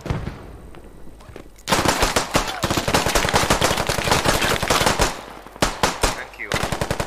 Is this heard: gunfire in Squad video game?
yes